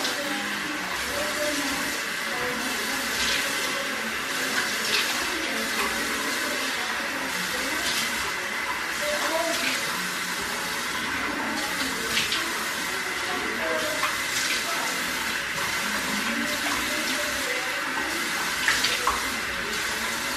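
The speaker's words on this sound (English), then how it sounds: "So, after that, you will wash your face." Tap water runs steadily from a faucet into a sink during face washing in a home bathroom, a continuous even hiss with faint splashes and small knocks, fairly close, with no talk over it.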